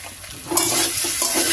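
A spoon stirs rohu fish curry with taro root in a pan after salt is added, scraping strokes over a loud continuous sizzle of frying, close and without talk, in a village kitchen.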